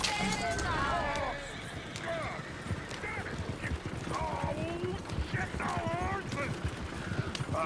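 Horse hooves clop at a steady trotting rhythm in Red Dead Redemption 2, close and continuous, with a horse whinnying now and then and voices talking over the hoofbeats.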